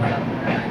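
The Kanchenjunga Express rolls slowly, a steady low rumble with faint rhythmic clatter of wheels heard from on board, with a voice speaking briefly over it.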